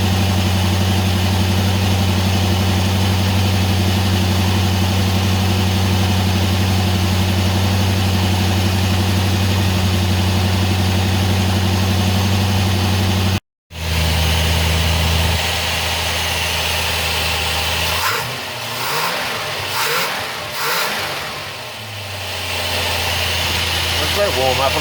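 A Ford XD Falcon V8 runs at a fast idle with a steady, loud, even drone. A brief dropout comes partway through, then the idle continues with some handling noise.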